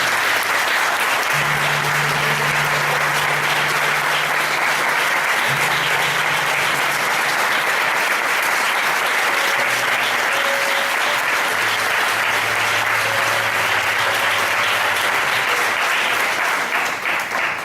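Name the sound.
applause from church congregation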